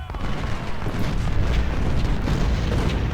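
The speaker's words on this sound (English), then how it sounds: "Artillery, open up on the approaching brigades." Artillery fire in Ultimate General: Civil War, Civil War-era cannons booming in a continuous rumbling barrage, loud and dense with overlapping blasts.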